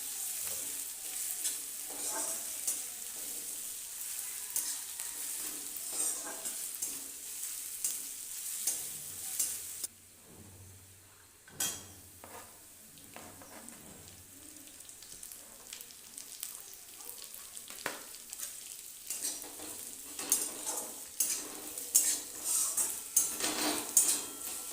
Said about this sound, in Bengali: আদা রসুন ভালো করে ভাজা ভাজা হয়ে গেলে দিয়ে দেব কেটে রাখা পেঁয়াজ।